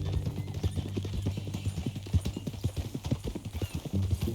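Horse hooves clip-clopping in Red Dead Redemption 2, a rapid rhythmic run of close, clear hoof strikes that continues throughout, with a low steady background hum.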